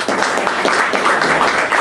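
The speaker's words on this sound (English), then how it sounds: "please give Brian a round of applause to start with" A dense, steady wash of audience applause fills a lecture hall after the introduction of a speaker at a technical talk on Python programming, close and loud without pause.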